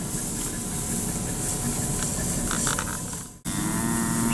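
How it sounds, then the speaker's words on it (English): Cattle moo at a livestock sale of steers and heifers in Sylvester, Georgia, low calls over a steady hum of pen and engine noise, with a brief dropout near the end. "There's a few cool cows in here to lead the calves around."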